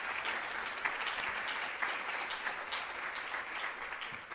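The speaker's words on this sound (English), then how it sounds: "Let's give them a hand, the people who've made this possible" Sustained applause from a seated audience at an anniversary event, steady and full for the whole stretch with no voices over it.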